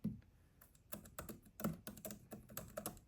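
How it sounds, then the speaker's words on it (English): Keys clatter crisply on the aluminum Space Black Magic Keyboard for the 2024 iPad Pro. The clicks come in quick, uneven bursts, close and fairly quiet, with no talk. "And here is the Space Black Magic Keyboard for the iPad Pro."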